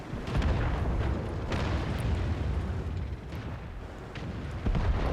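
Artillery shell explosions in World of Tanks, heard as a continuous loud rumbling boom with a sharp burst near the start and another heavy hit toward the end.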